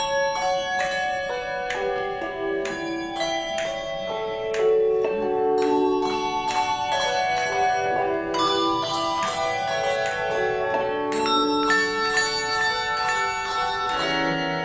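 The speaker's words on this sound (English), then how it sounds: "The tower bell comes to the handbell." Handbells ring out Greensleeves together with a tower bell, a bright, resonant sequence of struck bell tones with long overlapping decays, steady and fairly loud throughout, with no talk.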